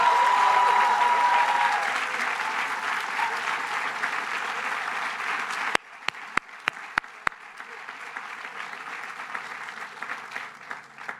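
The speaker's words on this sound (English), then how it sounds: "Big round of applause." Sustained applause from a large audience at the 2023 LILA graduation ceremony for the graduating class, a dense roar of clapping that gradually thins into scattered claps, with a few sharp knocks near the end.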